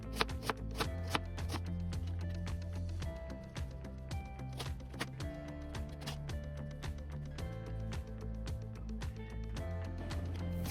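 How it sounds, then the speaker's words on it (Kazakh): A knife chops peeled pumpkin into cubes on a board, giving rapid, regular sharp knocks close by, alone over faint background music. "Тазалап болған асқабақтарымызды бірнеше бөліктерге бөліп, кубик тәрізді етіп,"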